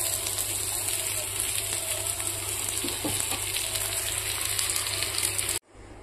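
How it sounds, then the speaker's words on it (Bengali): Bitter gourd frying in oil in a pan, a steady close sizzle with a few soft stirring knocks partway through, cutting off abruptly near the end. "ভেজে নিলাম করলা ভাজি"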